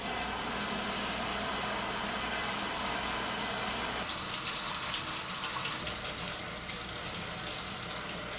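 Steady stream of tap water pours into a sink while celery is washed, a constant close hiss and splash that shifts slightly midway as the flow is interrupted.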